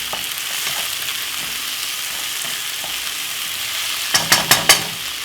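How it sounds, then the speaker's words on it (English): Mixed peppers sizzle steadily in a hot pan during a chilli king prawn fry-up, then a quick stir adds a few sharp clatters of utensil against the pan near the end, close and loud. "Then the mixed pepper. Give that a quick stir."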